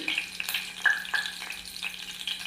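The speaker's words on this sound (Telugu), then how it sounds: "తాలింపు గింజలు వేగాక" Tempering seeds frying in a tablespoon of hot oil in a pressure cooker on a stove, giving a soft, steady crackle and sizzle with scattered small pops, fairly faint and with no voices.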